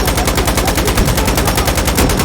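Rapid automatic gunfire in Insurgency Sandstorm, a loud continuous burst of evenly spaced shots about fifteen per second, close and alone throughout.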